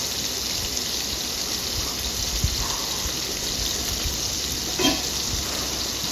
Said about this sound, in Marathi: अशा प्रकारे मंद गॅसवर आपल्याला ते आता शॅलो फ्राय करून घ्यायचं आहे